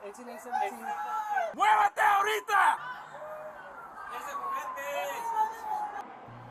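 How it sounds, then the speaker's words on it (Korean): Piercing screams and yells from people at a house during an armed police standoff, several loud overlapping bursts early on, then fading into distant murmuring voices. "그리고 대치 중에 터져나온 비명 소리."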